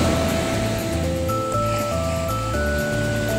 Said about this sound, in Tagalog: Dito lang naman guys sa pangpang lakas ng alon.